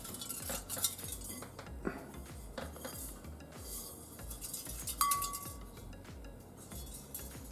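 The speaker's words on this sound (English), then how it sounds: "it sounds like there's something rattling around in there" Metal shavings rattle and clink inside a small airbrush compressor air tank as it is shaken, giving a steady jumble of light metallic jingling with no speech.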